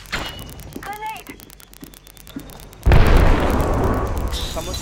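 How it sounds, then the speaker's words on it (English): A grenade goes off in Apex Legends, a sudden loud, close blast that booms and then rolls on as a sustained rumble, following quieter gameplay sounds and brief chirps. "Grenade!"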